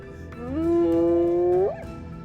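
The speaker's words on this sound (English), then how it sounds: "the haunting whoop that can carry for 5 kilometers through the night" A spotted hyena gives one long, drawn-out whoop, a steady tone that swells and then bends upward before breaking off, loud and alone against a low background hum.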